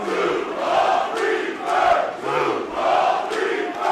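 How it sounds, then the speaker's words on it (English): A wrestling crowd in the carousel room trades dueling chants, loud rhythmic group shouting that swells and falls in a steady repeating cadence of roughly four beats. "Dueling chants go up here in the carousel room."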